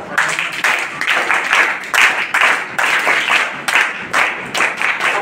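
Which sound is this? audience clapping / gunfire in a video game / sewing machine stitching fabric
audience clapping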